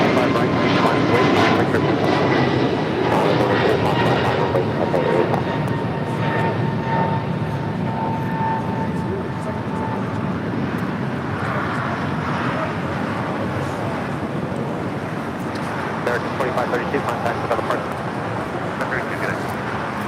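LATAM Airlines jet taking off from LAX runway 25 right, a loud sustained engine roar that swells and slowly fades, with a person talking over it.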